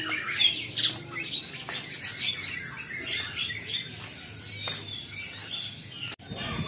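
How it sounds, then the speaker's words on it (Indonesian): Caged birds, including mynas, for sale at an animal market in Muntilan, chirping and squawking in a busy, overlapping chorus of shrill calls, fairly close and continuous, with market noise faintly underneath. "Ini koleksi yang didagangkan burung-burung. Entah burung apa, saya nggak tahu burung. Dan saya tahu ini ada burung jalak."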